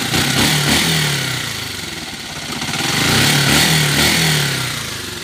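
A Honda TMX125 Alpha motorcycle engine runs steadily up close, loud and continuous, its revs swelling slightly and easing, with no talking.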